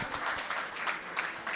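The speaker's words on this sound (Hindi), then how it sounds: "मैं चाहता हूं महाराज के लिए जोरदार तालियां" An audience at a Hindi poetry gathering (kavi sammelan) in Hapur claps for a poet, a short dense burst of applause, fairly distant and steady throughout.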